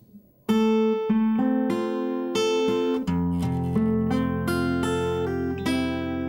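Plucked guitar notes ring out in a steady phrase, several notes overlapping and sustaining, fairly loud and close with no voices.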